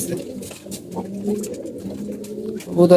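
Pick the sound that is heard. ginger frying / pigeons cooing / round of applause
pigeons cooing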